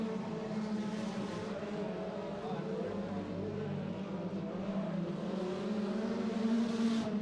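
Four-cylinder race cars run at Tyler County Speedway in a steady, moderately distant engine drone that swells slightly near the end as the pack comes through the turns, with faint commentary beneath.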